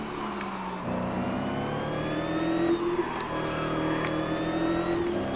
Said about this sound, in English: You can kind of hear a turbo